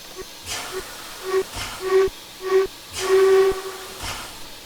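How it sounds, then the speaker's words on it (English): A steam whistle from an 1889 Baldwin 4-4-0 locomotive in Train Simulator Classic gives a string of short hooting toots with breathy hiss, building to one longer blast near the end. "Not a bad whistle sound at all,"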